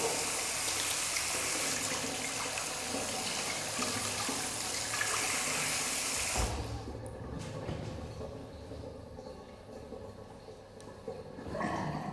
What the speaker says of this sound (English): Now, wash my Guasha and mouth soap.